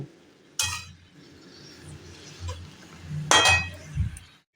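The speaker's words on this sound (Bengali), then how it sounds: "এবার আমরা ভালো করে সুন্দর করে নেড়ে দেব।" A utensil stirs cabbage curry with fish head in a pan over a low flame, with a few sharp metallic clinks and scrapes against the pan between softer stirring and sizzling, moderately close.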